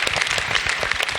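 A gospel choir's live audience claps in a brief, steady patter of applause, fairly close and even.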